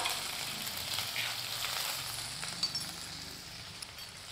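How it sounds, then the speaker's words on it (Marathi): Green chili and garlic thecha fries in hot oil as a tempering for horsegram pithla, a steady close sizzle with soft crackling and an occasional faint clink, no talking. "खूप छान हिरवी मिरची आणि लसूण तळला गेला पाहिजे"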